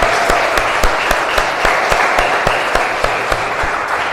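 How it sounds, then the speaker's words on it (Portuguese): Church congregation applauding during an anniversary worship service, sustained crowd clapping with a few sharp, distinct claps standing out at a steady rhythm, heard alone without talk. "Aplauda o Senhor."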